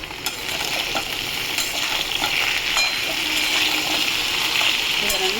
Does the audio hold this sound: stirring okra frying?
yes